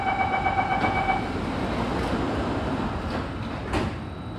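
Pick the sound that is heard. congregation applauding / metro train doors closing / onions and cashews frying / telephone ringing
metro train doors closing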